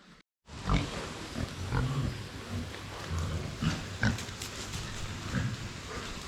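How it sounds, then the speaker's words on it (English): Pigs on a farm grunt and oink continuously at close range, a busy chorus of overlapping snorts with occasional sharper squeals, steady and fairly loud throughout. "the company's really spoilt us with some real good fine pigs this time"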